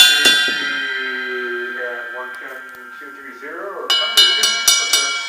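The bell of a cymbal is struck, giving a bright, ringing metallic tone with long sustain. Someone speaks over it, and near the end a run of quick, clean pings repeats at a steady rhythm.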